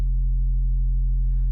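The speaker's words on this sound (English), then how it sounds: "I just have a simple sine wave sub bass for this song." A plain sine-wave sub bass from a sleepy lofi track holds one deep, steady, loud tone throughout, with faint soft hiss rising near the end.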